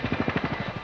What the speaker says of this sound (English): A helicopter pilot picked him up and took him out to a ship that we had stationed